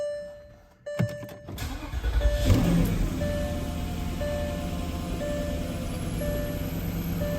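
A 2004 Porsche Cayenne S starts after a crankshaft position sensor replacement, with a chime and relay clicks before the starter cranks and the engine catches, then settles into a loud, steady idle.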